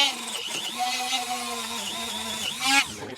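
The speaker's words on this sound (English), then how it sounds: "I think I'm going to use my Dremel with the wire wheel" A Dremel rotary tool fitted with a wire wheel whines at high speed while cleaning an EGR valve gasket surface on a 3800 Series 2 V-6. The pitch wavers and dips under load, close up and without voices.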